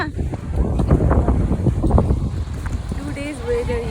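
Wind gusts steadily on an evening walk along a seaside corniche, a continuous breezy rush buffeting the microphone while people talk nearby.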